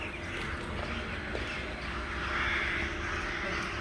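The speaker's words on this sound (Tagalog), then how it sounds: "Daming uwak." Many crows calling near a train station, their caws rising faintly out of a constant wash of background noise.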